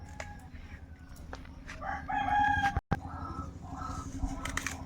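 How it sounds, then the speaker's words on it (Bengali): A rooster crows loudly in a long, rising call, with other birds chirping and clucking around it in an outdoor yard. "পাখির ডাক শোনা যাচ্ছে"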